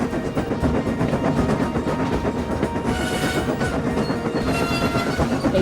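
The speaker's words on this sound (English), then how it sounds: "the train was going so fast" A train rushes steadily along the rails with a continuous rumbling roar and rapid rhythmic clatter, loud and close throughout.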